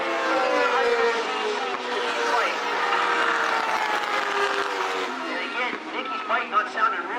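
A Honda superbike engine at a club race runs rough as it passes the tower. Its loud, sustained whine shifts as it goes by, under steady commentator talk.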